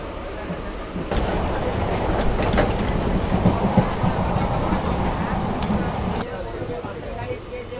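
A Kharagpur to Digha local train stands at platform 1 of Tamluk station, giving a loud, steady rumble with metallic clatter and brief sharp clicks; voices mix into the din.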